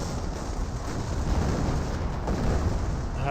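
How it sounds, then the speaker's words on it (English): A Sherman tank shell striking a Grenadier squad in Company of Heroes, a sustained rumbling boom and explosive roar that stays loud and dense throughout with scattered battle noise. "Gets a great hit there on the Grenadiers."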